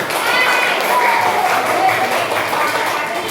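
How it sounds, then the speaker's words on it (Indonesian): Schoolchildren clapping their hands in a classroom for a group that has just presented, a dense burst of claps held steadily at close range with voices mixed in. "Kita kasih tepuk tangan buat kelompok 1."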